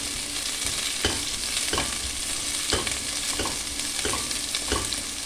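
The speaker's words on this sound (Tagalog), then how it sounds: "Ilagyan ko na ng mantika guys yung kaldero ko. Tsaka ilagay ko na yung onion." Onion sizzles and crackles steadily in hot oil, with a few periodic scraping stirs in the pot.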